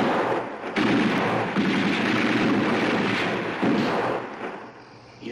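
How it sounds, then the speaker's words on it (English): Several heavy gunshots ring out in a film scene from Follow That Dream. The booming reports are spaced a second or so apart and fade into a quieter tail. "What are you shooting at?"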